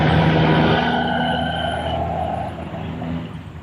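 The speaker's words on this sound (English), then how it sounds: "Truck is just way too dang loud." A loud truck rumbles close by at a fishing spot, its engine drone and tonal whine strong at first and gradually fading as it moves away.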